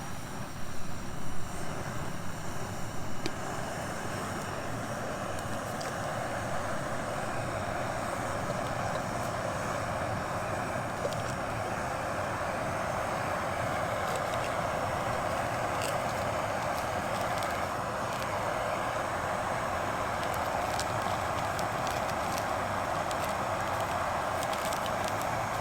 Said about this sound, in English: I don't know if you can hear me over the jet boil